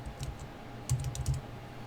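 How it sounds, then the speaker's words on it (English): Fingers tap out a short burst of clicks on a computer keyboard, quiet and close, in a few uneven clusters of keystrokes. "we're going to type spring"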